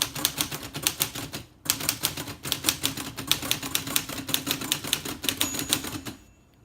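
Rapid, steady keystrokes clack from a 1966 Olivetti Underwood Lettera 32 manual typewriter close by, with a brief pause early on before the typing resumes and then stops.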